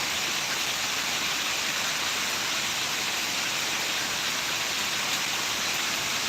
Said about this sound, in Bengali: ঝড় হচ্ছে না বৃষ্টি হচ্ছে